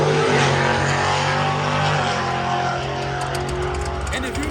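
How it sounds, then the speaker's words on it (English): Drag racing cars run and warm up at Great Lakes Dragway, a loud, sustained engine roar with steady droning harmonics and voices mixed into the din. "you can hear the cars going down track, hear the cars warming up"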